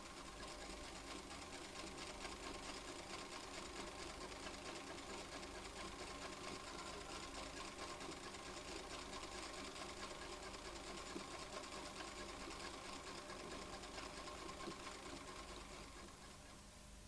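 An old sewing machine runs continuously for about seventeen seconds, a steady, dense mechanical whir with fine rapid ticking, fairly faint and unbroken, easing off slightly at the very end.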